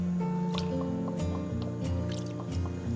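Soy sauce poured into a pot of braised chicken feet, a soft steady trickle and drip of liquid against a continuous low kitchen hum, close and fairly quiet with no voices.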